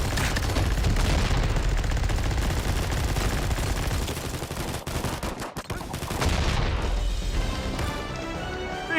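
Minigun fire in the video game Combat Master: a loud, dense, sustained roar of rapid gunfire with a brief break partway through before the barrage resumes.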